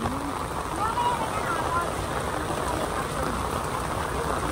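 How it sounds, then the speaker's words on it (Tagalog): A sudden heavy rain pours down at Tamar Park in a dense, even hiss, with a faint voice somewhere beneath the downpour. "Dahil sa biglang buhos ang ulan."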